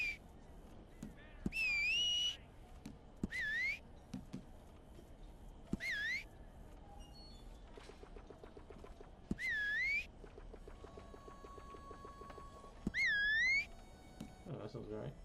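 A character in Red Dead Redemption 2 Online whistles several short rising-and-falling tunes in separate bursts, clear and prominent over quiet game ambience with faint hoof clops, and no talk over it.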